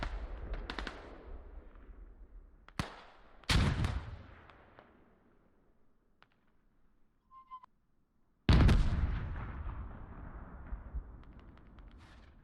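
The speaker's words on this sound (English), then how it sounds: "That tank shot just firing underneath us." A tank cannon fires in an armored combat game: several loud, sharp blasts, one close and heavy, each trailing off in a long rumbling decay, with quiet gaps and no talk between them.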